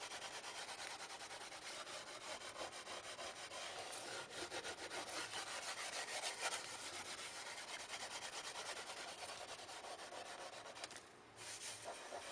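Wire wool rubbed over a varnished surface to dull it down before applying cold wax medium, a steady close scratchy rasping that continues without pause through the whole stretch, with a brief lull near the end.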